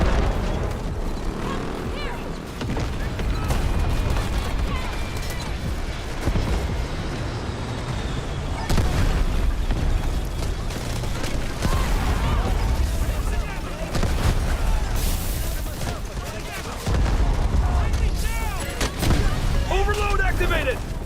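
Artillery barrage explosions in the shooter Delta Force boom and rumble repeatedly, loud and heavy, mixed with gunfire bursts while voices speak over the chaos.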